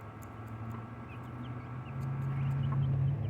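Chickens in a backyard chicken yard next to a coop cluck softly and intermittently over a steady outdoor hum, sounding somewhat distant and low in level.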